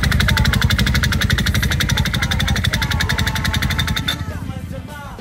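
A motorcycle engine runs loud and close with a steady, fast pulsing beat for about four seconds, then cuts out abruptly. Faint voices are heard in the quiet that follows.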